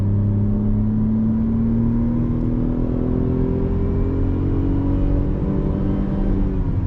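A Tata Tiago i-CNG hatchback with an automated manual gearbox accelerates hard, its engine note climbing steadily in pitch under a loud, continuous drone of engine and road noise, with no talking.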